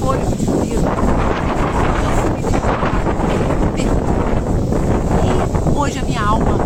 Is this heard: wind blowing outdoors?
yes